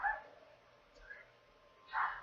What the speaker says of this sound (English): So now my dog's barking in the background